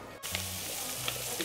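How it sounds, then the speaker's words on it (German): Rice sizzles in a frying pan with a steady, bright hiss of frying, close and continuous, with a few faint clicks and stirring sounds over it. "Mein Reis brutzelt."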